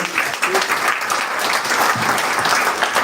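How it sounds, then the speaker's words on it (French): Audience at a public information meeting about a lagoon applauds after a speaker's talk, a steady, fairly loud spread of clapping over the whole stretch with murmuring underneath. "je pense qu'on peut l'applaudir"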